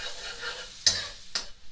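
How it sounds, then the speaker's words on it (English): Garlic sizzles in butter in a frying pan, a soft steady hiss broken by two brief scraping stirs, close and fairly quiet. "we infuse the garlic, you know, in the butter, because we want a nice little garlic taste"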